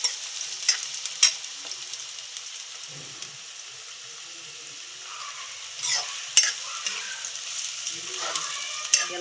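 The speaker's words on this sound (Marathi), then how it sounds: "त्यांना मस्त तेलामध्ये परतून घ्यायचं." Green chilies, thick and thin cut, fry in hot oil with a soft steady sizzle, broken by a few sharp stirring scrapes and clinks of a spoon against the pan.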